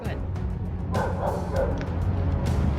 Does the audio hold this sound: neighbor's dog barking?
yes